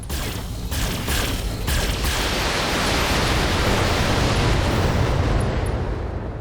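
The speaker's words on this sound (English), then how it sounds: "we're going to send a full salvo" A full weapons salvo in the mech combat game Battletech rolls out as a sustained, loud wash of explosions, with a few sharp bursts at the start merging into a steady roaring barrage, no voices.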